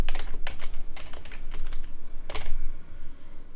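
Rapid clacking on a computer keyboard as a word is typed out, a dense run of sharp close keystrokes with a few louder hits, steady throughout and with no talk.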